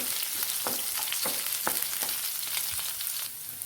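Mustard seeds and chopped onion frying in hot coconut oil for a thoran, giving a dense, continuous sizzle with a few sharp pops and crackles, close by and without talk.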